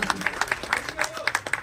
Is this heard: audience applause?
yes